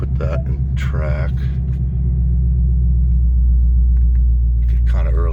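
A Ford Mustang, Bullitt or S650, idles with a deep, steady exhaust rumble close by. It holds constant underneath while someone talks briefly at the start and end.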